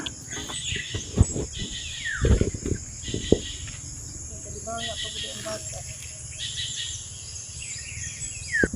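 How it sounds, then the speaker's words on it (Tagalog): Forest birds chirp and call in short bursts along an Agusan nature hike trail, joined by steady insect or cricket buzzing, with footsteps and a few quiet voices in the background. "Maririnig yung mga huni ng ibon guys."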